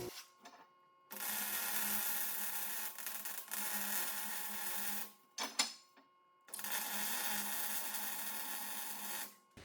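Welding of punched metal tabs on a windmill basket in a small jig, two long steady buzzing arc runs of several seconds each separated by a short pause, close and fairly loud with no talk.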